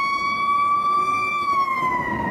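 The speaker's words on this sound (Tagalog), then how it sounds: "Alam niyo ba yung tunog ng bombero?" A fire truck siren wails loudly and steadily nearby, its piercing tone holding, then slowly drooping in pitch toward the end.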